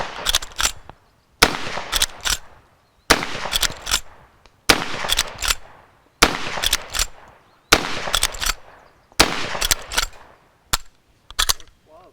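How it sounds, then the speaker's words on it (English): A Century Arms PW87 shotgun is fired from the hip outdoors, giving eight loud, sharp blasts at roughly regular intervals of about one and a half seconds, some followed by quick mechanical clacks. "gonna shoot this from the hip now"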